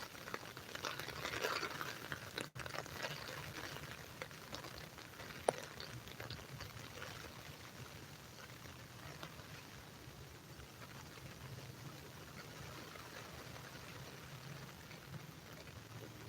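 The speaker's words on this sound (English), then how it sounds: "We can sit out in the rain and have a whole ASMR listening to the raindrops." Steady soft rain falling outdoors, a faint continuous hiss of raindrops pattering on surfaces, with one or two small taps, no talking.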